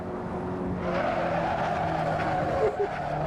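Race car tires sliding and losing grip after running onto the grass in a sim racing game, a steady engine drone with a rising scrubbing skid and brief squeal near the end, continuous and close.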